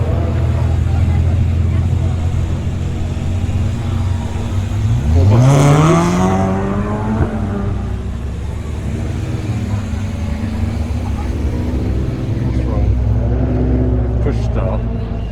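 Rallycross cars, including BMW Minis, race at Lydden Hill: a loud engine roars past near the middle with a rising then falling whine over a steady crowd and motor rumble, with voices faintly in the background.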